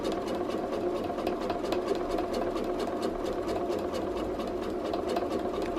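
Home sewing machine running a continuous, even stitching hum with rapid needle rattle while free motion quilting, steady and close with no talk.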